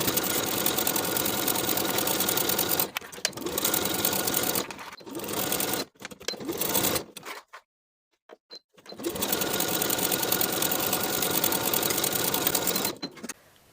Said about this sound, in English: Now we can sew this seam as pinned with a 3/8 inch seam allowance.